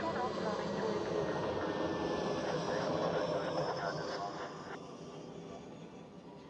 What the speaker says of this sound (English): here we have ITA Airways with the Alitalia livery